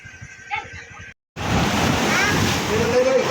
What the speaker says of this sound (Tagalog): Yun oh, malakas ang alon.